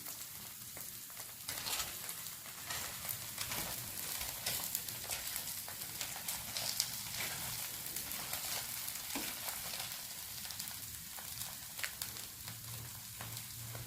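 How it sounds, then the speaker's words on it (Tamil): A rava dosa fries in oil on a hot pan, a continuous close sizzle and crackle with a few small pops, no talking. "நல்லா இது ஆகும்போது கொஞ்சம் வெந்தக்கப்புறம் லைட்டாக எண்ணெயை வந்து ஊற்றிக்கோங்க. வேகட்டும்."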